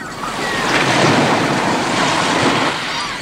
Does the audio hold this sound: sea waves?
yes